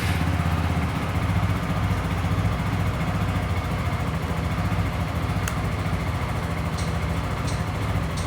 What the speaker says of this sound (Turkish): titreşimsiz, sakin çalışan çok güzel bir motosiklet